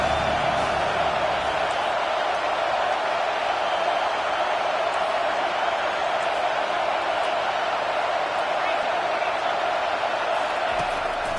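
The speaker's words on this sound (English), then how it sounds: "Decibels rising as the crowd gets behind this defense on third down." Football stadium crowd roaring steadily on a third-down defensive stand, a dense, continuous wall of loud crowd noise throughout with no breaks.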